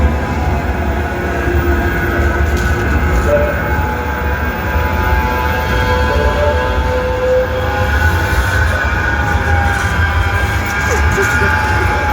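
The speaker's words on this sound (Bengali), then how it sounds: "এটা হচ্ছে সুডিল ট্রাম স্টেশন" A tram sits at a tram station in Manchester, giving a continuous low rumble with a sustained electric hum that holds steady throughout at a moderate, fairly close level.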